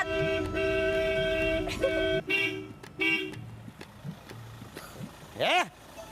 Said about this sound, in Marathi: कुणी वाजवला रे हॉर्न?